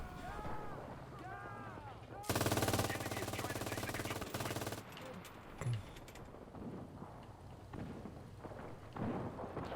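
A tank's machine gun in the game Enlisted rattles in a loud, dense burst of rapid fire lasting about two seconds, with a voice talking before it and game rumbles afterward.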